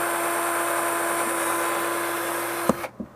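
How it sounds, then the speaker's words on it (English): A power drill whines steadily, driving a screw into a rear speaker mount on a Nissan Frontier, then cuts off abruptly into a couple of short clicks and knocks. "I'm going to put a screw here, and I'll put a screw there."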